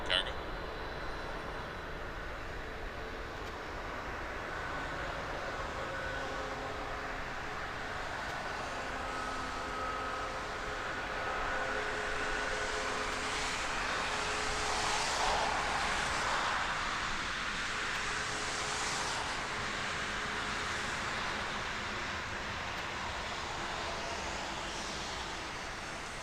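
An Air Canada Boeing 767 cargo jet taxis at Toronto Pearson Airport, its engines giving a steady, broad rumble and whine at a moderate distance that swells slightly midway, with a faint voice over it at times.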